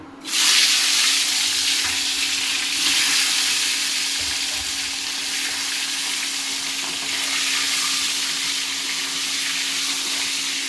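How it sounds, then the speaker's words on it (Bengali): Eggs drop into smoking-hot oil on an induction cooktop and burst into a loud, dense sizzle that starts abruptly and then settles into a steady crackling hiss, close up with no talking. "তেল গরম হয়ে গেছে, ধোয়া উঠে গেছে। এবারে ডিমগুলো ভেজে নেব।"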